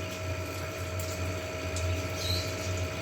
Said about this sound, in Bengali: সাদা তেল দিয়ে দেবো, এবার একটু গরম হলে ছাড়বো